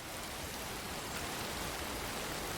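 Steady English rain falls in a continuous soft hiss, faint and unbroken, with no voices.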